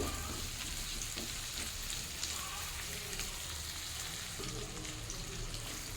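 Prawns frying with pumpkin, potato and pointed gourd in a pan for a prawn dum curry, a steady close sizzle with scraping stir sounds running unbroken throughout, no talking.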